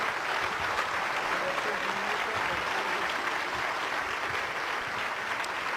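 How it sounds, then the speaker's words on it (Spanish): A church congregation applauds, dense sustained clapping from many hands filling the room evenly and steadily throughout, with voices faintly mixed in. "vamos a darles un buen aplauso a todos estos dos varones"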